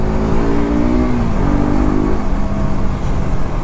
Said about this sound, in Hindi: टायर चेंज कराने जा रहा हूँ तो बर्नआउट इज कंपलसरी